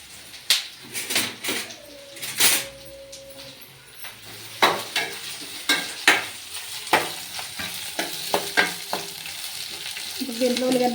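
Sliced onions fry in a pan for Telugu onion pulusu, a soft sizzle running under repeated clinks and scrapes of a spoon stirring against the metal, close by and without talk.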